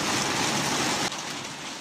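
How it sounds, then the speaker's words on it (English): Heavy rain pours down at night, a loud, steady hiss that dips slightly partway through and continues alone with no voices. "It's just started raining"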